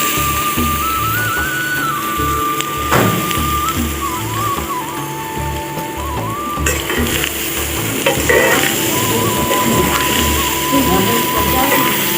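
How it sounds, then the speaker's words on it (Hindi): Onions dropped into a pan at home start frying with a steady crackling sizzle, close and fairly loud, while someone talks over it and a thin whistling tone runs in the background. "तो अब देखिए मैं प्याज डाल कर रही हूँ।"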